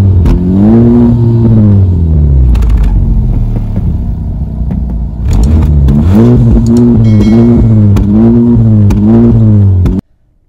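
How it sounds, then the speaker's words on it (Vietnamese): A 2023 Honda Civic Type R with its 2.0-litre turbocharged engine and triple exhaust revs hard twice, each rev rising and holding as a loud, close, droning exhaust note before cutting off abruptly at the end. "nghe cái tiếng bô nó rất là uy lực anh chị. Và ngay sau đây thì mời anh chị cùng em nghe cái tiếng bô nha."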